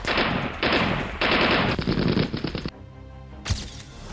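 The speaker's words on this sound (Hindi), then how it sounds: "हमास के लड़ाके अंधाधुंध गोलियां बरसा रहे हैं।" Loud bursts of automatic gunfire as fighters shoot at civilian houses during the Israel-Hamas war, rapid sustained volleys with short gaps, then a single sharper shot near the end.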